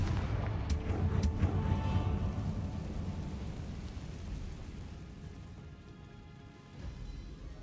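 Booming Confringo fire-spell explosions from Hogwarts Legacy, a few heavy blasts up front followed by a long rumbling, crackling roar that slowly fades, loud and close with no talking.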